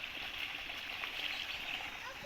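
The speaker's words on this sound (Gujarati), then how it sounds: "જો પાણી આવી" Water flowing in during an outdoor village outing. A steady, even rushing wash runs throughout, with people's voices faintly mixed in behind it.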